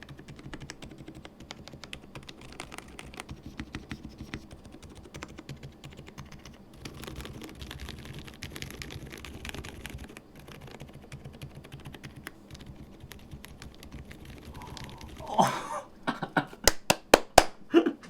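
Keystrokes rattle steadily on a modified Gas67 mechanical keyboard, close and fairly quiet, with a few louder, sharper clacks bunched near the end.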